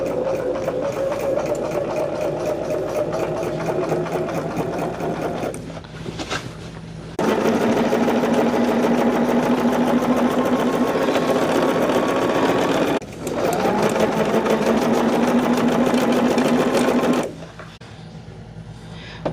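A sewing machine stitches quilt rows in steady fast runs with a rapid whirring rattle, stopping briefly twice before starting again, then winding down to a quieter hum near the end; no one speaks.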